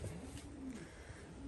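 Pigeons in a Syrian loft give soft, low cooing calls close by over faint background hiss, in a short burst of coos.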